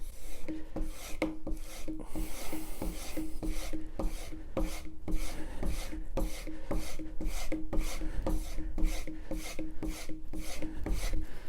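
A steel plane blade is rubbed back and forth across a sharpening stone to hone its primary bevel, giving a steady series of close, raspy strokes at an even rhythm with no talking.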